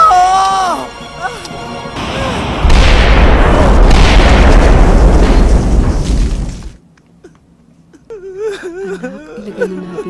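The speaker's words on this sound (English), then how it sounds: "ibang klaseng bomba yan!" A film bomb explosion erupts as a loud, sustained boom with crashing debris for several seconds, cut off abruptly, then followed by quieter voices and a whimper.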